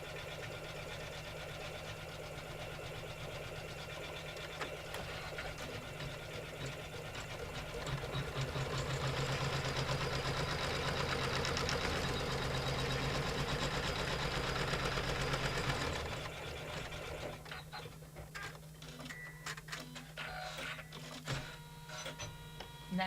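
A sewing machine stitches quilt seams in a steady, continuous mechanical whir that swells in the middle and drops off near the end, leaving quieter handling clicks.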